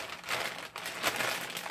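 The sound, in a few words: plastic bag crinkling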